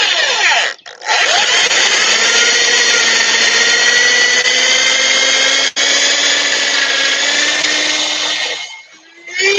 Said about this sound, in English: Probably should drill a hole here first for this point to go into.